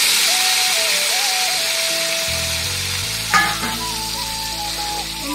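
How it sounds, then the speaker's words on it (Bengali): Spiny gourd, pointed gourd and potato frying together in hot oil, giving a steady close sizzle with a faint tonal whine running through it and a brief clatter partway, no voices. "আমি এই তেলের মধ্যে কিছু ভেজে নেব। এখানে আছে ভাজার জন্য আমার কাঁকরোল আর পটল আর আলু"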